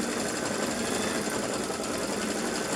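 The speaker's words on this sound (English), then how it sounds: "So there we have stitching along in that direction, and it's going to go back so that it's a little bit more definite." A sewing machine runs steadily, stitching a continuous lining in one unbroken, even mechanical whir that stays close and loud from start to finish, with no talking.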